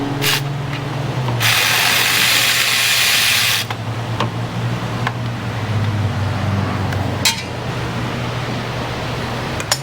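A ratchet and power tool work on large nuts on a car's brake and axle assembly, with a sustained loud whirring burst early on, then sharp clicks and clacks over a steady mechanical hum.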